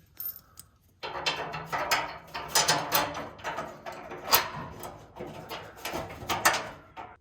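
Long bolts being fitted to a 1934 Chevy sedan utility fuel tank, a close run of repeated metallic clinks, taps and ratcheting clicks in irregular bursts after a quiet opening second, with no talking.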